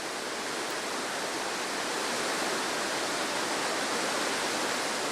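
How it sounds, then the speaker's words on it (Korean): A massive waterfall on the Brazil–Argentina border, made of many falls dropping about 70 m across a front 4.5 km wide, roars as a loud, constant wash of noise with nothing else heard. "압도적 폭포 소리."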